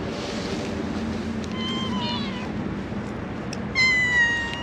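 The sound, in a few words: kittens meowing, asking for food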